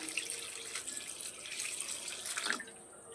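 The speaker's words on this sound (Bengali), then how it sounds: "এর মধ্যে দিয়ে দেবো ঠান্ডা জল" Cold water pours from a tap onto boiled soybean chunks in a kitchen, a short, fairly quiet splashing stream that stops abruptly near the end.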